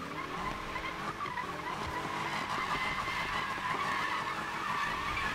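A car drifts in Need for Speed 2015, its tires squealing in a steady, sustained skid over engine noise that holds loud and even for several seconds.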